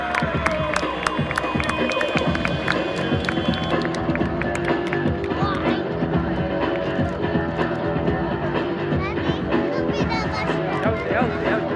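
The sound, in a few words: crowd applauding a stunt driver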